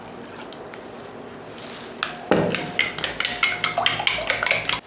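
A spoon stirs powdered sugar and milk in a bowl, soft squishing and scraping strokes in quick repeated rhythm, close and fairly quiet.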